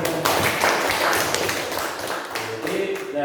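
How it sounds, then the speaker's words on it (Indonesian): A classroom of students claps their hands together, producing a dense, steady patter of claps, fairly close and loud throughout, with some voices underneath. "Tepuk tangan."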